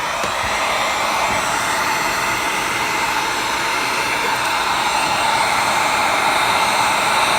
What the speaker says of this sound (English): And then turn your heat gun on.